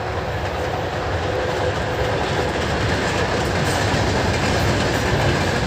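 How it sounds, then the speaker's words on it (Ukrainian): Train rolling past near a garden plot, a loud steady rumble with faint clickety-clack of wheels throughout, close by and unbroken. "Потяг он їде, бачите?"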